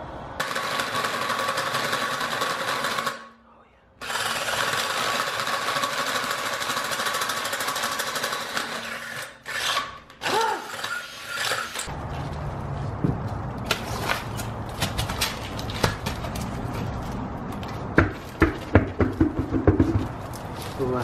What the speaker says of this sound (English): I'm also pretty sure that I'm drilling this crooked